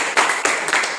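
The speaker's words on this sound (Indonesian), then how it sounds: "tepuk tangan untuk si Lois" A classroom audience claps for a student named Lois in short, uneven bursts of hand claps, fairly close and sustained over about a second.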